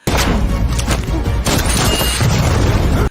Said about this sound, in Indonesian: Secara mengejutkan, Alistair berhasil selamat dari ledakan